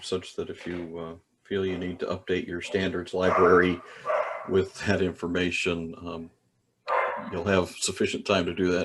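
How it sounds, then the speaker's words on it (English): During a Zoom meeting, a dog barks and yips in the background, faint and intermittent, beneath a man's steady close-up speech. "Apologize if you can hear a dog in the background"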